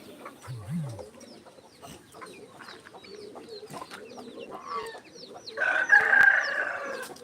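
Hens cluck and chatter close by, with a low call early on and a loud rooster crow rising near the end.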